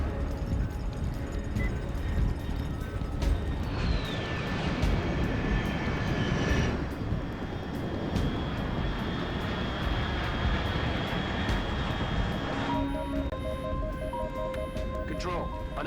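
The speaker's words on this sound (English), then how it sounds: "Unidentified aircraft detected." In the video game Metal Gear Solid Delta, an aircraft engine roars continuously with a whining high tone that rises and falls. A voice speaks over it, and game music and electronic tones come in near the end.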